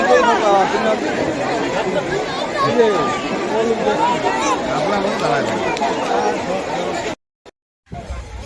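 Dense crowd chatter at Alipore Zoo on Christmas Day: many voices overlap in a loud, steady hubbub that cuts out briefly near the end.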